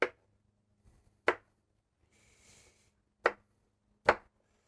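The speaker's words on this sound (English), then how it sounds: "So get your orange, chop them nice and aggressive" Oranges chopped with a knife on a board while preparing smoked Peking duck, four sharp, close, separate chops spaced about a second apart, with faint handling noise between.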